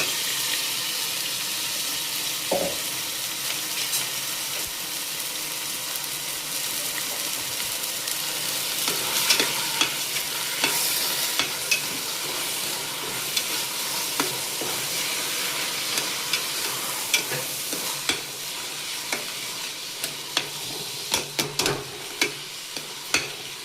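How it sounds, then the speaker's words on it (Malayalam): Continuous sizzling of drained rice frying in a pan for biryani, with scraping and clicking as it is stirred, close and steady throughout. "അരി വെള്ളമെല്ലാം ഒഴിവാക്കിയിട്ട് നന്നായിട്ടൊന്ന് വറക്കണം ഒരു മൂന്ന് മിനിറ്റ്"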